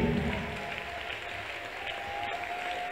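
An audience claps together in a steady, dense burst of applause lasting about three seconds.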